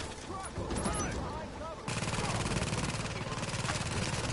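Rapid automatic gunfire in the video game The Division, dense overlapping bursts running throughout with a steady rhythmic rattle after the first seconds, while players talk over it.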